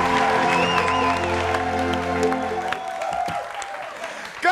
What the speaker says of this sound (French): On dit applaudissez pour le plus bête.